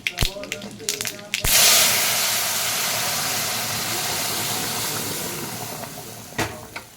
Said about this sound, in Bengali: ডালটা ফোড়ন দেবো, 2টো শুকনো লঙ্কা আর একটু সর্ষে ফোড়ন দিয়ে দিলাম।